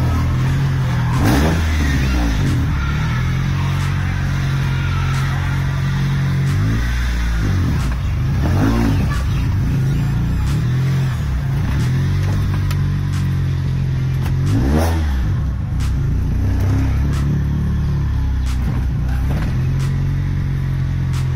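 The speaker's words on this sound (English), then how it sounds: "you're idling it from inside the cabin, it has a very deep, very throaty hum to it" A life-size Hot Wheels car engine idles deep and throaty, then revs in repeated loud, close bursts that rise and fall over a continuous rumble.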